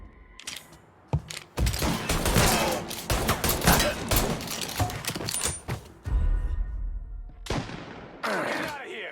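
Repeated gunfire bursts and volleys from a Mafia III shootout, loud and dense through most of the stretch, with shouted voices mixed in and a few brief lulls before more shots.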